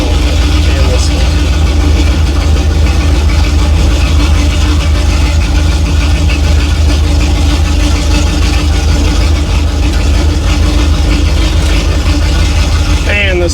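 A 1955 Buick Super, long neglected, runs loudly with a steady low engine drone throughout, heard close up as the car moves and is shifted manually, with someone talking over it.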